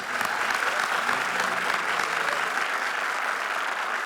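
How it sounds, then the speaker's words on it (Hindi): Loud, sustained audience applause in a television comedy show studio, steady dense clapping from a crowd throughout. "थैंक यू, जोरदार तालियां।"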